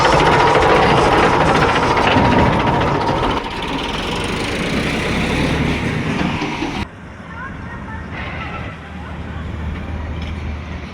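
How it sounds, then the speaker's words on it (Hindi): A tractor engine runs steadily in a wheat field during harvest, a constant droning rumble that drops slightly in level partway through, with talk over it. "अभी ट्रैक्टर कर लिया है चालू"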